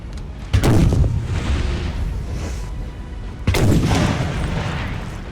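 Artillery cannon fire from the Napoleon: Total War video game: two loud, heavy booms a few seconds apart, each followed by a long rumbling decay, with no talk.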